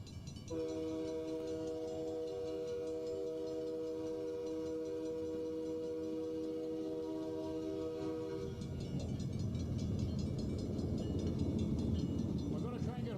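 A train passes through Smiths Falls railway station with a loud, sustained multi-tone horn blast lasting about eight seconds, then gives way to a heavy rumbling roar of rolling cars close by.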